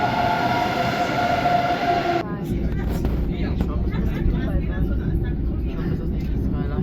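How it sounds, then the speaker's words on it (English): ICE high-speed train running from Frankfurt to Hamburg, a steady loud rumble of the moving train with a tonal whine at the start that cuts off after about two seconds, leaving broadband rolling noise throughout. "the inner city express train that takes you from Frankfurt to Hamburg in about 3 hours"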